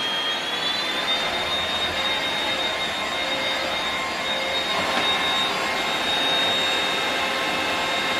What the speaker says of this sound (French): Donc le mode turbo, on a le mode normal